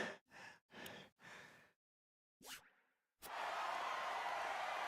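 A character in the video game Triangle Strategy breathes heavily after a duel, with four loud, gasping breaths in a row. A silent gap follows, then a short springy twang and a sustained loud hiss of noise.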